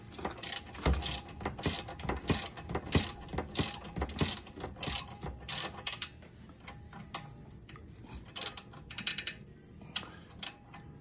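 A socket ratchet clicks rapidly in repeated bursts while driving a bolt into place during a brake replacement on a 2015 Jaguar XJ, with short pauses between the quick pawl-click runs, close and fairly loud.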